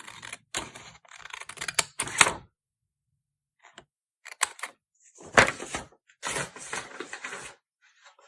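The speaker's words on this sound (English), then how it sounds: "You will cut a stripe of paper" Scissors snip through a thin strip of paper in short, crisp bursts, several quick cuts clustered near the start and again toward the end, close and fairly quiet with silent gaps between.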